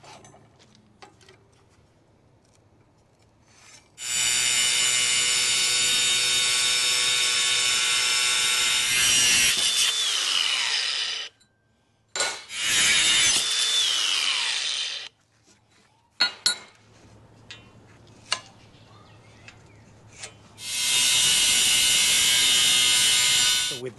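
Metal being cut by hand with a saw to make angle iron legs for a homemade pallet buster, heard as long, loud, steady rasping strokes in several bursts separated by short pauses.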